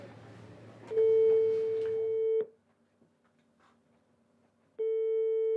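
Telephone tone while placing a call, a steady electronic beep lasting about a second and a half, then silence, then the tone starts again.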